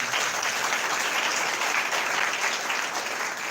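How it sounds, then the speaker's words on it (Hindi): Steady applause from a church congregation at a Sunday Hindi-language worship meeting, a dense, even wash of many hands clapping that continues without break for several seconds. "एक बार ताली बजाओ परमेश्वर।"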